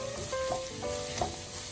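Garlic sizzling with onions and celery in a hot pan for sausage herb stuffing, a close, steady fry with soft stirring bumps and no talking.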